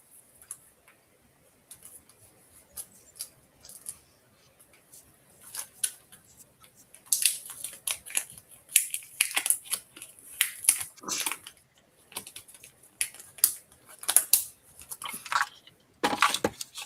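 Scissors trimming paper for a junk journal, a run of crisp snipping clicks that starts sparse and faint, then grows louder and denser, close up with no talking.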